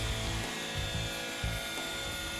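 A radio-controlled helicopter flies during a basic R/C training session, its steady rotor and motor whine running continuously and fairly loud, with a pulsing low-end beat shifting as it moves left and right.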